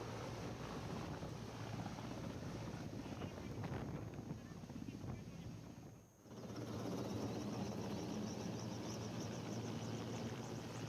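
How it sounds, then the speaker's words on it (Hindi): Prime Minister Narendra Modi's helicopter arrives at the IDF World Dairy Summit 2022 with a faint, distant rotor drone and wind-like rush that briefly dips midway, mixed with background voices. "जब प्रधानमंत्री नरेंद्र मोदी अपने हेलीकॉप्टर से पहुंचे,"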